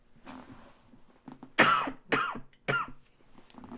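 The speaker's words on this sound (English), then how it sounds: "I need a cough for that." Several harsh coughs in a quick cluster, close and loud, with softer throat-clearing noises before them and no talk in between.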